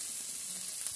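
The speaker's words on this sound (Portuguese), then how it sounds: "O bacon com a linguiça. Já está fritando." Bacon and sausage fry in a pan with a steady, bright, close sizzle that cuts off abruptly after about a second, no voices over it.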